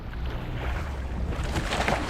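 A loaded boat rides through rough ocean waves, with steady low engine rumble, water rush and wind buffeting close to the microphone throughout.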